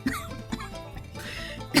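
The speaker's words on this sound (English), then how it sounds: "The mule stops and coughs." Audiobook narrator voicing a mule's coughs, a few short rough coughs close up, with a louder burst at the end.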